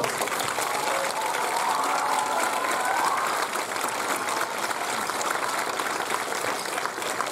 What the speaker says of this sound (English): can we give them one last round of applause?